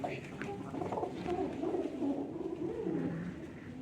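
Pigeons coo softly and repeatedly at close range inside a pigeon loft in rolling, throaty phrases, with faint rustling in the background.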